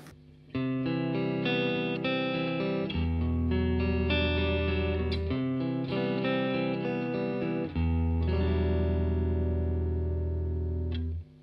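Clean electric guitar chords ring out through a Fender Deluxe Reverb and a Vox AC30 tube amp, sustained and clear with a touch of reverb, played alone for several phrases.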